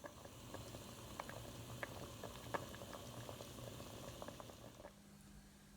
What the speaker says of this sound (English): I just bring them up to a boil so that they're nice and hot.